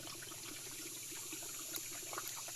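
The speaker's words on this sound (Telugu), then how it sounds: "ఇక్కడ నుండి లోపల నుండి వాటర్ సౌండ్ వస్తుందండి" Water trickles faintly inside a rock in a forest, a quiet, uneven dribbling with small splashes against a soft background hiss.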